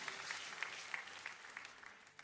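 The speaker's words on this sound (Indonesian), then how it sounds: "Kasih tepuk tangan yang luar biasa." Applause from a church congregation during a sermon, a steady wash of clapping with a few sharper claps standing out, moderately loud and fairly even throughout.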